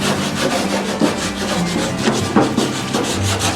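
Steady abrasive sanding scrapes against rusty metal in repeated back-and-forth strokes, loud and close, with no voices.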